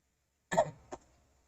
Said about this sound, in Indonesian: Sorry, lagi batuk.